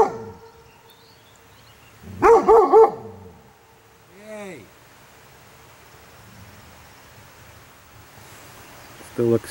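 A dog barks outdoors at a gold prospecting camp: three sharp, loud barks in quick succession, then a single softer yelp-like bark, with quiet ambience between.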